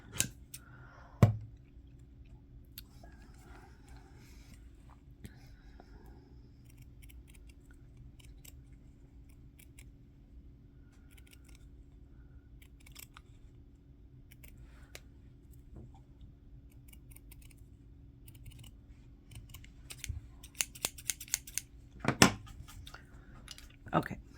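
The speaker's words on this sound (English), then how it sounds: "So I'm just gonna trim these little pieces that are poking up here." Scissors trim yarn ends on a crocheted jar grip, giving faint, scattered snips at close range. A quick cluster of sharper cuts comes near the end, and a person speaks quietly at times.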